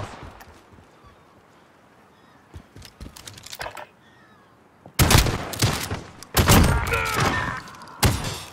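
Call of Duty: Modern Warfare gunfire: scattered clicks and pops give way to loud, rapid bursts of shots that come in heavy volleys, close and continuous.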